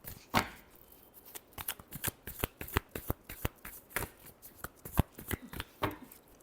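Tarot cards are shuffled by hand at close range in a quick run of crisp riffling slaps and snaps, roughly twenty sharp bursts in an uneven rhythm, with no talk.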